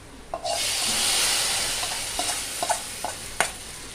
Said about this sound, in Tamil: கடலெண்ணெய் ஊற்றிருக்கேன் அதனால தான் கொஞ்சம் பொங்குது